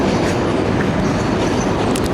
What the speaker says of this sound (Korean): 지하철 소리가 너무 커서 녹음이 안 될 것 같아서